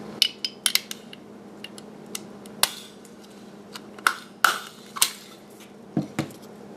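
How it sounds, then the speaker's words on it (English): A paper chain link being stapled, heard as a scatter of sharp metallic clicks and clacks, some louder than others, close by with no talking. "And then we're going to staple."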